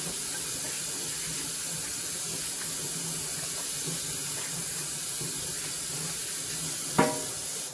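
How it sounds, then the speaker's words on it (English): Water runs from a tap in a steady, close hiss as hands are washed under it, continuous for several seconds, with a brief sharp knock near the end. "We're gonna go over here and wash our hands."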